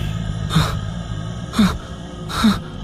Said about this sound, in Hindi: तभी उसे भयानक सांसों की आवाज आने लगी